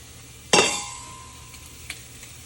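Pork chops fry in oil and butter in a Dutch oven, giving a steady, low sizzling hiss throughout. A sharp metallic clink rings out early, followed by a fainter tap later; no one speaks.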